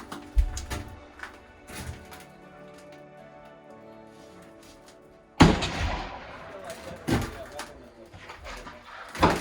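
Gunshots, including from an AR-15, strike ballistic riot glass in a few sharp, loud bursts, with quieter stretches and voices talking between the shots.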